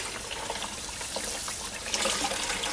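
Running water splashes and trickles as the inside of a whole chicken is rinsed out for a mojito lime rotisserie marinade, a steady close wash with a brief louder gush near the end.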